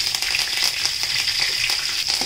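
Onions sauté on a high flame for Kashmiri tomato chutney, cooked in a houseboat kitchen, with a loud, steady sizzle close up and quick scraping stirs layered over it.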